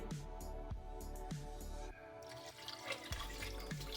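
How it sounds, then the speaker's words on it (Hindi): Water trickling and dripping into a cooking pot of desi chicken shorba, a steady close splashing with repeated soft drip accents and no voices. "अब इसमें थोड़ा पानी मैं और डालूंगी।"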